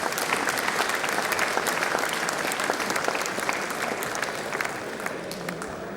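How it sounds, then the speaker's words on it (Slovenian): Loud, dense applause from a large audience at a Slovenian beekeeping day awards ceremony, continuous clapping that carries on throughout and eases off slightly toward the end. "En velik aplavz za vse podeljevalce"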